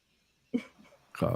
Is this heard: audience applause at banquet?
no